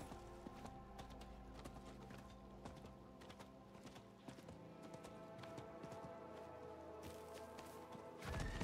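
Horse hooves clip-clopping in a video game, a steady rhythmic trot of hoof taps over a droning game soundscape with sustained tones, ending with a louder swell of noise.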